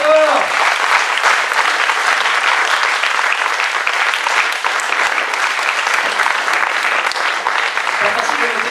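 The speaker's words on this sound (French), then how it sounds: "Allez, on applaudit très fort." Loud, dense applause from an audience at an improv theatre festival following a scene, a continuous roar of clapping with voices and cheers mixed in, sustained throughout.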